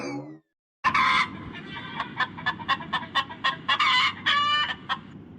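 Chickens at a village house cluck in a close, loud run of sharp, repeated calls, rising into a burst of rapid clucking over steady background hiss after a brief silence.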